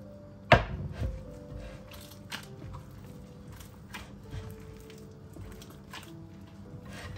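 Dough being worked by hand in a bowl while water is added, a sharp knock near the start followed by soft, irregular squishing and light taps under a faint background hum, no talking.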